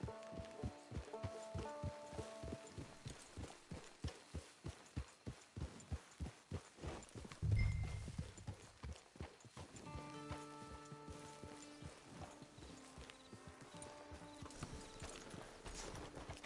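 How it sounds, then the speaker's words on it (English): Horse hooves clip-clop in a steady, even walking rhythm in the Red Dead Redemption 2 video game, close and distinct, with a brief soft thump partway through and faint background tones. "It's your horse."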